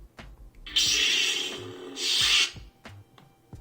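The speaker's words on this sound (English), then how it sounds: "Screwing in the pommel." A pommel is screwed onto a metal lightsaber hilt, giving two close, rasping bursts of threaded grinding, each lasting under a second, framed by soft taps and handling clicks.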